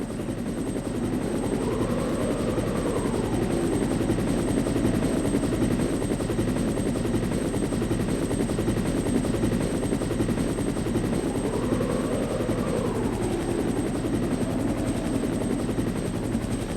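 A helicopter in the Resident Evil Director's Cut video game gives a loud, steady rotor drone that holds without a break, with a slow swelling pulse repeating about every ten seconds. There is no talk over it.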